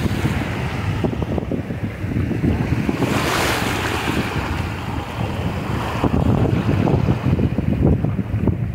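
Sea waves wash in at Layalganj Sea Beach in West Bengal, giving a continuous close surf roar with wind buffeting the microphone and a louder surge near the middle.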